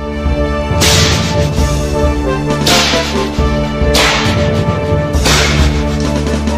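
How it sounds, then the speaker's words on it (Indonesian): Three sharp whip cracks at regular intervals ring out loud and close over a sustained musical background. "ledakan cambuk di arah yang lain"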